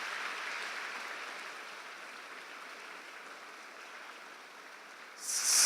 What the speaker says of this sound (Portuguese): Dá um aplauso bem lindo para o Senhor.